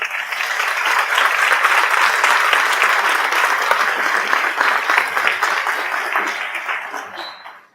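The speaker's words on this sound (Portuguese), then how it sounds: "uma salva de palmas" An audience at an evening lecture breaks into sustained applause for the evening's speaker, Marcos Barros, a dense, even roar of many hands clapping that fades near the end.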